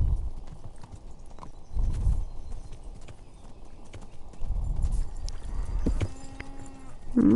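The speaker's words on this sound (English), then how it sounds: "I go on these wild jaunts with my horse" Horse hooves clip-clop steadily as a rider travels in the Kingdom Come Deliverance video game, with rhythmic thuds rising and falling in loudness and a brief whinny near the end.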